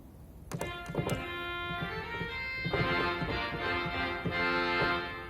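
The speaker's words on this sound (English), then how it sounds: "quietest trumpet in the organ, but still a trumpet." Bright, buzzy trumpet reed pipe organ stop, the organ's quietest trumpet, on a 2015 Lively-Fulcher organ in St Theresa's Catholic Church, Ashburn, playing a sustained chord with shifting notes, moderately soft and steady, with a few thumps at the start.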